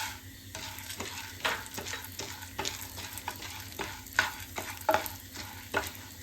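Roasted gram fries in hot oil with a close sizzle, broken by regular scraping strokes of a spoon stirring it around the pan.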